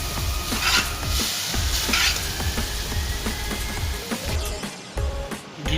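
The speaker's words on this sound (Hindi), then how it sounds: "इसको हम मिक्स करेंगे अच्छी तरह कांटे और चम्मच की मदद" Spaghetti being tossed into soft cooked vegetables in a pan with a fork and spoon, dense sizzling under repeated clinking and scraping of utensils against the metal.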